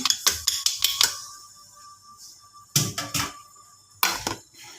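Beef pinapaitan being stirred in a cooking pot, with sharp metallic clinks and scrapes of a utensil against the pot in quick clusters separated by pauses.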